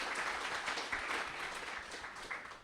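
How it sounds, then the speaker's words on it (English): Brief, faint applause from an audience at a speaker event, a soft patter of clapping heard at a distance with no voices over it. "let's just give another round of applause for Ian"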